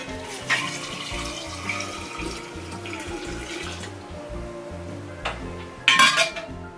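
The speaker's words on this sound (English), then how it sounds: "let's pour our water onto the tea bags, straight in the jar" Hot water poured from a kettle onto tea bags in a glass jar, a steady close trickle and splash with a few clinks of glass and utensils, ending in a brief brighter splash.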